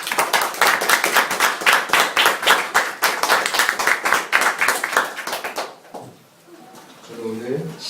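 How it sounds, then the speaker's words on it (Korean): Loud, fast clapping from a church congregation for the choir for several seconds, dying away, followed by a brief low voice. "성가대에 위해서 큰 박수 한번 드립니다"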